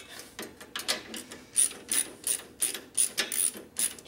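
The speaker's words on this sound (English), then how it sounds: "Use a short socket, it'll get in there" Socket ratchet clicking on a 1967 Harley-Davidson 74ci shovelhead FLH transmission, a rapid run of pawl clicks in short repeated strokes, close and fairly loud with no talking.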